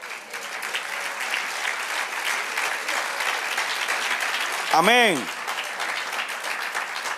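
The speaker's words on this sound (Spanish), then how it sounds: "Del otro aplauso, Señor." Churchgoers applaud during a Spanish-language sermon, a steady wash of clapping throughout with a brief voice calling out amen midway over it.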